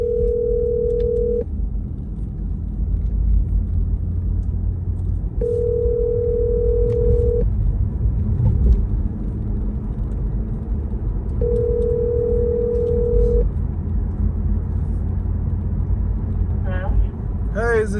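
A telephone call rings out as several evenly spaced tones, each about two seconds long with long gaps between them, over a steady low rumble of a car interior.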